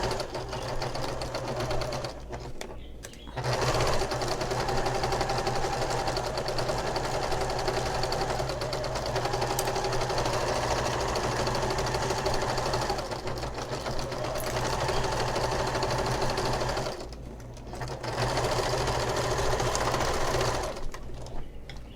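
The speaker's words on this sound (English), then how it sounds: "we're gonna sew this exterior with a 1/4 inch seam allowance or 6mm seam allowance" A sewing machine runs steadily, stitching a 1/4 inch exterior seam on a small fabric stocking, with two brief pauses between long continuous bursts of motor hum and needle chatter.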